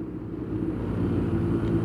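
A car passes along the road nearby, a steady low rumble that swells slightly toward the end, with no talking.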